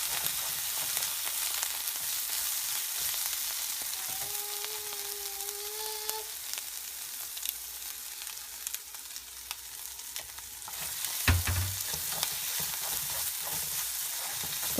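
Potato curry with curry leaves and coriander frying in a pan makes a steady, bright sizzle throughout, with a brief two-tone electronic beep midway and a stirring clatter near the end, no one speaking.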